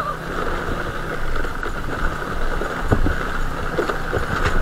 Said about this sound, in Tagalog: Kalampagan na yung ilalim ng motor ko.